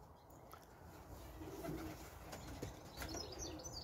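Pigeons coo softly at a moderate distance, with a few bursts of wing flapping over a steady outdoor background.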